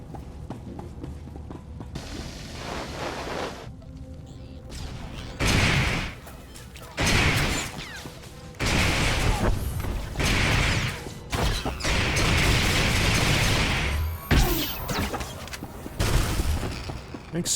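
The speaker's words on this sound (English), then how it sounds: "Explosions! More explosions." Gunfire and explosions in the Star Wars: The Old Republic video game during a bounty hunter mission, loud bursts of blasts and rapid shots coming in clustered waves with brief lulls between them.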